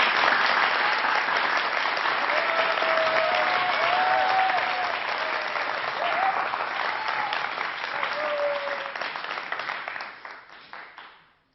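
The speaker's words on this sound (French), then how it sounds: "On l'applaudit." A Moroccan TV studio audience from 1993 applauds steadily for about ten seconds, a dense, loud wash of clapping that fades out at the end, with faint voices mixed in.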